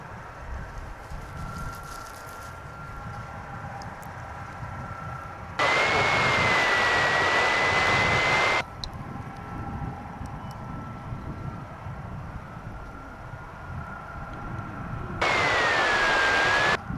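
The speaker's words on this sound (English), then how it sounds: "So this plane you see there is off to Phoenix, that American Airlines Clear takeoff" An American Airlines jet taking off at DFW International Airport, a broad, sustained roar from the distance with wind over the microphone, interrupted by two bursts of radio-like noise.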